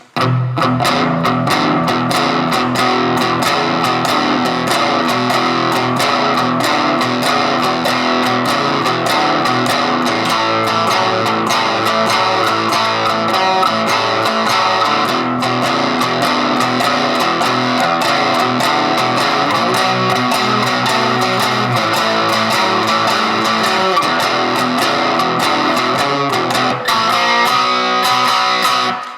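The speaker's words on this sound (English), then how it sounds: "let me play the whole 12-bar blues for you right now, just as we did" Distorted electric guitar chugs through a steady, unhurried 12-bar blues rhythm pattern, loud and continuous for the whole stretch with no voices.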